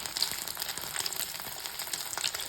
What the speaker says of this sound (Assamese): মাছ ভাজিলে তেল বহুত ফুটে